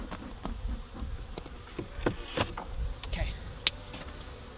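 Honey bees buzzing around an opened hive in an Alaskan spring, a soft, steady swarm hum close by, with scattered knocks and handling sounds and a brief spoken word.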